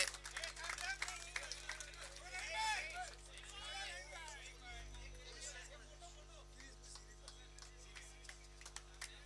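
Applause from the audience at a Master's 40+ rainy season cricket tournament prize ceremony, scattered clapping near the start that thins out, with someone speaking over a loudspeaker and background chatter.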